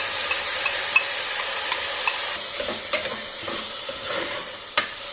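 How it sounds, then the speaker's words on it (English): Soaked rice and dal sizzle steadily in a hot pressure cooker while a utensil stirs and scrapes them, with small clicks and knocks scattered through the sizzle. "So while we are frying everything together"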